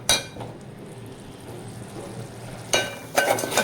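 Masala of onion, tomato, green chilli and oil being fried and stirred in a pan for a brain fry dish, a soft steady sizzle broken by a sharp scrape near the start and a cluster of clinking spoon strikes toward the end.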